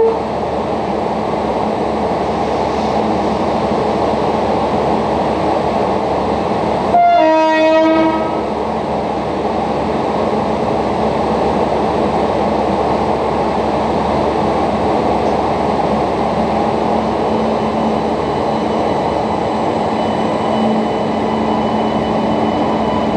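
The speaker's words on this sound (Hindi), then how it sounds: "अभी यहां पे हमारी ट्रेन का लोकोमोटिव जो है वो रिवर्सल होगा" Train standing at Ratlam Junction while its locomotive is being reversed, a steady rumbling railway ambience running throughout with a loud train horn blast near the middle.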